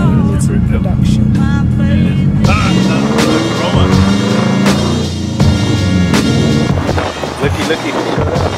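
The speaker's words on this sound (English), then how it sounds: "It sounds like my exhaust is gonna fall off. It's rattling a lot." Loud, close engine roar from a 500hp Subaru STI with a rattling exhaust, revving steadily with sharp transient knocks and clatter throughout, heard at a race-legal car meet.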